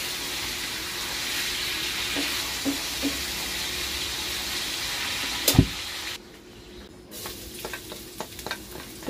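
Meat and other menudo ingredients sizzle loudly in a hot pan with stirring and a few utensil clinks. The frying drops sharply quieter partway through and continues faintly.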